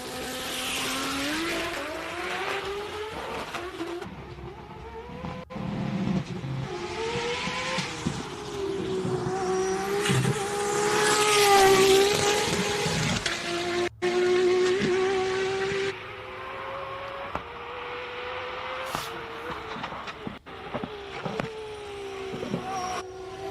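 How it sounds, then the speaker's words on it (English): A very loud race car on a hill climb run, its engine screaming and shifting up and down through the gears for a long stretch, with sharp cuts as the driver lifts off, close and roaring throughout. "It is the loudest car ever that you could ever hear."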